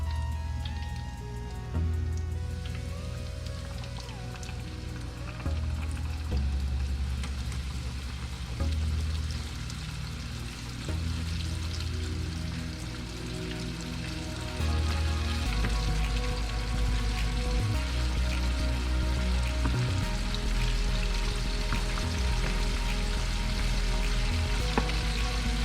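Chicken pieces for mustard fried chicken fry in hot oil with a steady, loud crackling sizzle close by. The bubbling grows fuller partway through as more pieces go in, with faint kitchen clatter and no talking.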